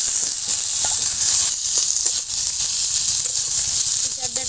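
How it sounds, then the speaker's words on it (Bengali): Young jackfruit hitting hot oil with fried onion makes a loud, continuous hissing sizzle that stays steady and close throughout, with a few faint clinks of a utensil. "লাল লাল ভাজা হয়ে গেছে, এবার আমি ইসরগুলো দিয়ে দেবো।"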